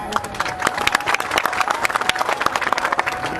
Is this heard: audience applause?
yes